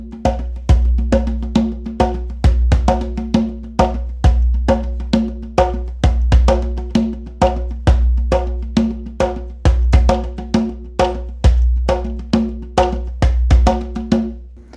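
Hand drum beating out a basic 12/8 groove, strokes falling in an even, repeating lilting cycle with a deep resonant low thump under crisp higher slaps, close and loud with no talking.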